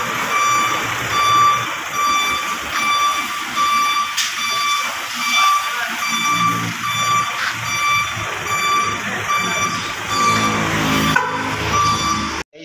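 A truck's reversing alarm beeps in a steady repeating pattern while the truck backs into a tight space, continuous beeping over engine rumble and outdoor noise throughout.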